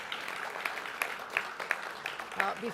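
Sparse, fairly faint applause from an audience at a government affordable housing announcement in Buffalo, scattered claps rising and falling over a few seconds with faint voices underneath.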